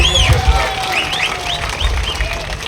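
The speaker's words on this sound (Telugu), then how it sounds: "అందరూ చప్పట్లతో వారికి కృతజ్ఞత తెలియజేయాలని చెప్పి" An audience applauds at a village foundation-stone ceremony for a lift irrigation scheme, a sustained burst of clapping from a crowd, fairly loud and continuous, with some voices mixed in.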